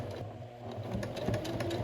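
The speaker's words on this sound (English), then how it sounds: "I promptly switched over to sewing the back and side pieces together, which went much better." A sewing machine stitching the back and side pieces of a Red-Haired Shanks cosplay garment together, a close, fast, steady run of rapid needle strokes throughout.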